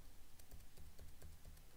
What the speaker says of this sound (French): je peux très bien le faire aussi avec les flèches du clavier